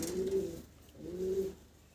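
Two pigeons in a pigeon seller's setup coo in two distinct low, throaty phrases, close by and clear against a quiet background.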